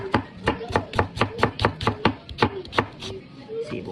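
Onions being chopped with a knife on a board, about a dozen crisp, evenly spaced cuts in quick rhythm, close and clear with no talk.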